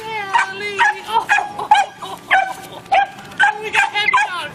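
Dachshund puppies whimper and yip excitedly in a rapid, high-pitched string of close cries while welcoming home a soldier, with no clear speech breaking through.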